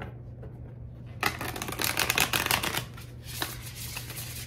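Crisp riffling of a deck of tarot cards being shuffled, a dense burst of flicks lasting a few seconds, close and fairly loud after a quiet start.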